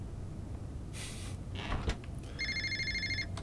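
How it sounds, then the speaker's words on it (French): A telephone rings in the video game Fahrenheit (Indigo Prophecy), a short electronic ringing burst near the end after some door-like clunks and sliding noises. "Oh mon dieu, le téléphone."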